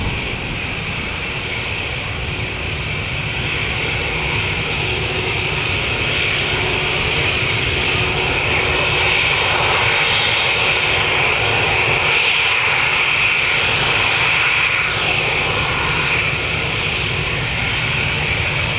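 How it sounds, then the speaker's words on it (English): An 18-year-old Aer Lingus Airbus A320-200 jet approaching the runway at Manchester Airport, its engines a loud, steady roar and whine that holds throughout and swells slightly midway. "approaching the runway, we've got an Aer Lingus Airbus A320-200 going to Dublin"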